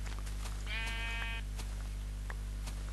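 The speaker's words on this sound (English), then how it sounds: "Thank you for your wool, sheep." A single wavering sheep bleat in Minecraft, clear and up close, lasting under a second over a steady low game hum with faint clicks around it.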